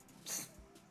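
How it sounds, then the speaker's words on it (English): A single short baby sneeze, a quick soft burst close by over quiet background. "He just sneezed on me."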